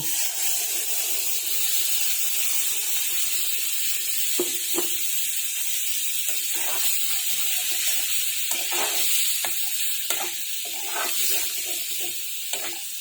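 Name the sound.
blender rinse water added to sizzling paneer gravy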